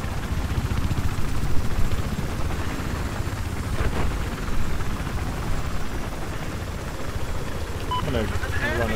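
A helicopter in the video game Battlefield 4, on the Siege of Shanghai map, gives a constant loud rotor and engine roar throughout, with faint voices near the end.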